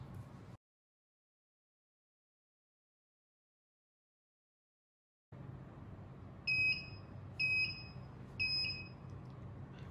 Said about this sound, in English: now we wait for the three beeps